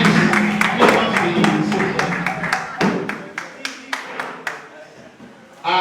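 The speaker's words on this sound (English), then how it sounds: "Please, a round of applause for him." Audience clapping for a speaker at a college gathering of a performing and media arts department, a full burst of applause that thins into scattered individual claps before fading.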